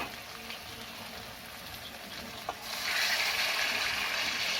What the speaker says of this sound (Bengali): তারপরে দেখো এই যে মাংসতে কষানো হয়ে গেছে, একটু গরম জল দিলাম।